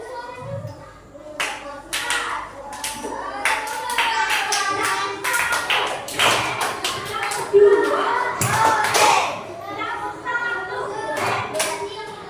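Children in a classroom perform tepuk semangat, a rhythmic Indonesian clapping game, with bursts of patterned handclaps, brief pauses and some thumps mixed with children's voices chanting and talking close by.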